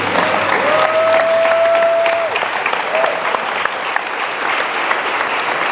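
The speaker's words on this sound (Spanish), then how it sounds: "Dense un aplauso." A church congregation applauds its leaders, a steady wash of clapping with a tonal whistle-like sound riding briefly over it and a voice faintly present.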